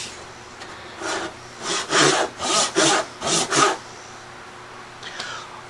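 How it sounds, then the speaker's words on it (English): A hand saw cuts a lap joint in wood in about seven steady back-and-forth strokes, close and rasping, with quiet pauses before and after. "continue sawing, but work your focus more on that side"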